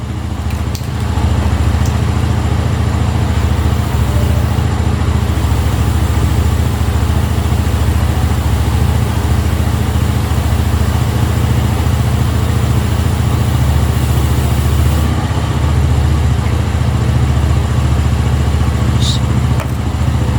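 A motorcycle engine runs steadily at idle nearby during chain lubrication at home, a constant low rumble lasting throughout, with a faint brief spray or hiss near the end.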